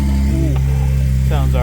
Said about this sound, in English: Let's get this 911 started back up.